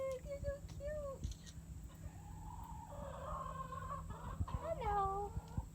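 Chickens cluck and murmur close by on a ranch over steady outdoor background noise, with a few brief higher calls mixed in.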